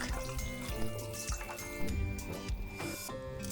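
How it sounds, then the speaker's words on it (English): Boiling water pours over konjac in a continuous splashing stream, dense and fairly loud, with a few gurgles and shifts in flow. "Then pour boiling water to reduce the unique odor of konjac."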